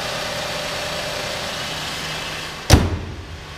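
A 3-liter V6 in a 2010 Buick LaCrosse idles with a steady low hum; near the end a sharp thump, like a door closing, briefly cuts through before the idle settles again. No one speaks.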